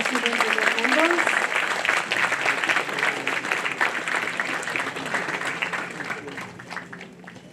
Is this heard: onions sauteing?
no